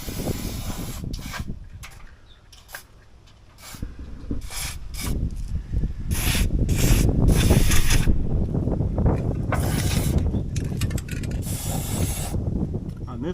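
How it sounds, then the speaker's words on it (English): Grease is sprayed onto the leg screw of a camper in several loud, close hissing bursts between brief gaps, with some handling noise and no talk. "I'll just get a bunch of grease up there."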